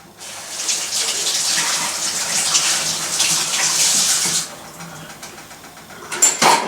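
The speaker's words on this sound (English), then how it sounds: "I just washed off the pestle" A pestle is rinsed under a running kitchen tap, a steady broadband gush of water lasting about four seconds before cutting off, followed by a few brief clinks and handling noises.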